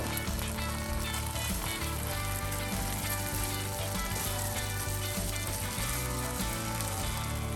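Coconut milk sizzling and bubbling in a hot pan while green curry with chicken cooks, a steady close frying hiss lasting throughout.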